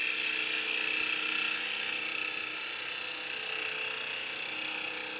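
A gouge cutting a cypress bowl on a wood lathe, a steady, even hiss and whir of tool on spinning wood, moderately loud and unbroken, with a faint high whine running through it, no voices.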